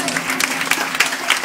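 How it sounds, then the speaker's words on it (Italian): Applause from an audience at a live Italian song performance, a dense patter of clapping that carries steadily through the moment with a few sharper bursts standing out. "Me lo fanno un applauso"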